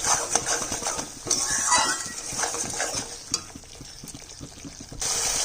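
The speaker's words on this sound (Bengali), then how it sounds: "কষিয়ে নেব 2 মিনিট মতো, যেহেতু পোস্ত আর সর্ষা বেশি কষাতে হবে না" Poppy seed and mustard paste mixed with two garlic cloves being sautéed in a pan, with a soft steady sizzle and scraping stirs of a utensil against the pan, close up with no talking.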